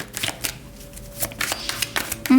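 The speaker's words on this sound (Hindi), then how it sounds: "तो चलिए शफल कर लेते हैं पाइसेस मीन राशि के लिए।" Tarot cards being shuffled by hand, a close series of quick riffling, flicking bursts in an irregular rhythm, moderately loud with no talk over them.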